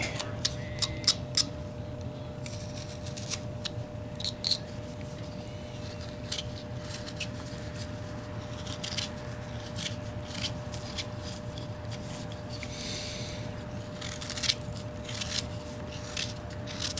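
A carving knife cutting into a wooden figure of an Amish man, giving small close clicks and scraping nicks, more frequent early on and scattered later, over a steady low hum, no talk.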